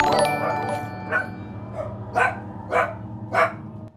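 Several dogs bark in short, loud bursts, roughly four sharp woofs spaced about half a second apart over a steady background hum, close to the microphone indoors.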